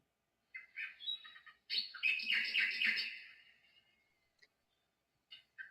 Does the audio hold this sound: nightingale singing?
yes